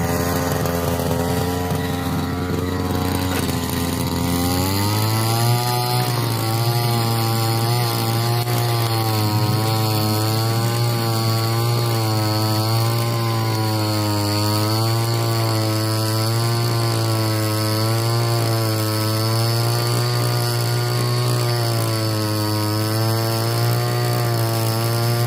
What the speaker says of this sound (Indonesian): Ini alat penggembur tanah.